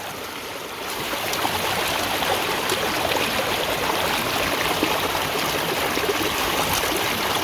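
A creek flows steadily in the bush at Drake, New South Wales, during gold prospecting, a close, dense rush of running water that swells after the first second and then holds constant.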